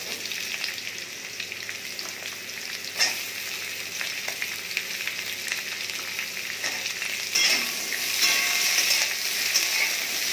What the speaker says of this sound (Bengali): করলাটা একটু ভালো করে ভেজে নেব, তারপর অন্য সবজি দেবো।